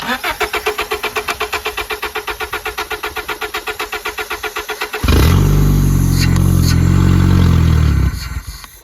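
A Honda Accord fitted with a snowmobile carburetor cranks over with a fast, even rhythmic chugging of the starter for about five seconds, then a loud steady roar holds before cutting off.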